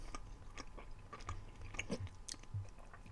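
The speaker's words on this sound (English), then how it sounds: "excuse myself from you hearing me chewing" Close-up crunching bites of a green apple, wet crisp crunches and chewing at an uneven pace, fairly quiet with no talking.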